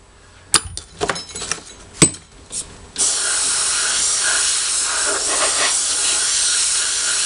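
Compressed air blasting loose sand from a sand casting mould in a home foundry: a few sharp clicks and knocks, then a loud, steady close hiss that holds to the end.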